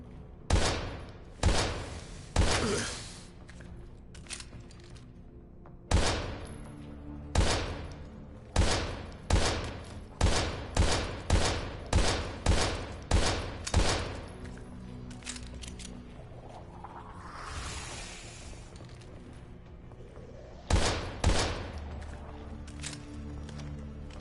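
Gunfire rings out in the horror video game Daymare 1998, as a long series of loud, sharp shots comes in irregular bursts and rapid runs, each with a short decaying tail over a low game ambience.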